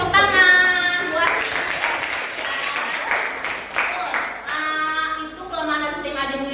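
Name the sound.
class applauding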